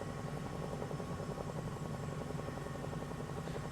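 A Bell 222B helicopter in Microsoft Flight Simulator 2024 produces a steady, rhythmic rotor thump over a constant turbine whine, heard continuously and fairly quietly with no talking.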